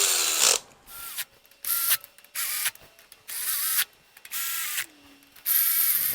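A ratchet tightens bolts on a Ford 302 small-block V8 intake manifold in a crisscross pattern, making rapid clicking bursts that stop and start about seven times, close and fairly quiet, with no talking.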